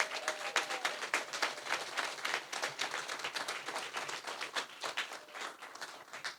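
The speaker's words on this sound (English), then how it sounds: "I'd like for everyone here to applaud these amazing men and women." Applause for graduates at a community re-entry program graduation, a smaller group clapping with distinct individual claps audible, moderately faint and uneven, rising and falling in waves.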